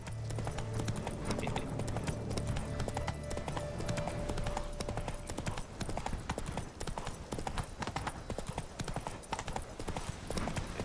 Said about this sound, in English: let's try and do some better horse riding so Midnight doesn't judge me too much